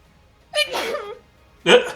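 A single sneeze bursts out at close range, followed a moment later by a second short, sharp vocal burst, with quiet gaps around them.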